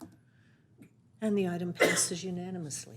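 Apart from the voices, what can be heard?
sneeze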